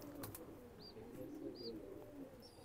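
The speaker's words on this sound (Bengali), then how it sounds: "এ আর এক জোড়া কবুতর" A pair of Oman Teddy pigeons coo in low, continuous murmurs close by, with a few short high chirps breaking through; no talking.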